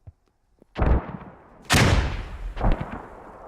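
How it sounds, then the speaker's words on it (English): Gunfire and grenade blasts in a military shooter game: a couple of faint distant shots, then two loud, sharp booming reports about a second apart with rolling tails, followed by another burst of fire. "Oh, nades go out. That's Jorvik shooting."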